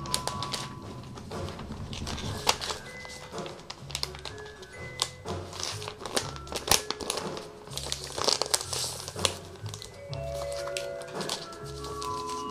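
A clear plastic record sleeve being handled and folded over the spine, with close crinkling and crackling, taps and rustles in irregular bursts, and quiet, intermittent talk underneath.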